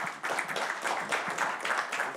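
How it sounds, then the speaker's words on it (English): Brief, moderately quiet applause from a seminar audience welcoming a panel of professors, a steady patter of claps lasting a couple of seconds. "Please give a round welcome applause."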